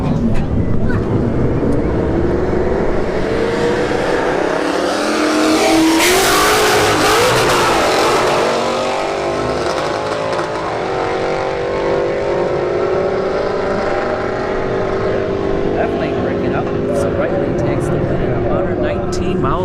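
A Ford Mustang S550 drag car runs at a drag strip, a loud engine roar that climbs sharply as it pulls away, then eases into a sustained fading drone while a commentator talks over it.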